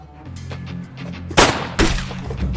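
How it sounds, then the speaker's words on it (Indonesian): Gunfire in a film shootout: two loud, sharp bursts of shots close together, standing out over a quieter low background. "Namun dari arah tak terduga tiba-tiba saja muncul tembakan"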